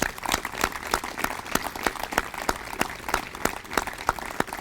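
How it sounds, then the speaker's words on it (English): Audience at a police commission meeting applauding: a steady round of many hands clapping, continuous and moderately loud throughout. "That's a separate round of applause."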